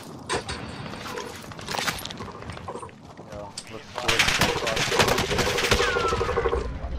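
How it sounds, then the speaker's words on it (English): Gunfire crackles through a Call of Duty: Warzone match, with scattered sharp shots that grow into a dense, loud burst of firing as players talk over it. "Why are you sniping me all the way from the dam, bro?"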